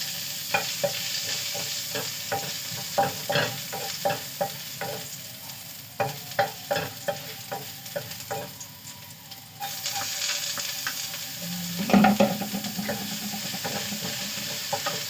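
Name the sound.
stir-frying a little meat with garlic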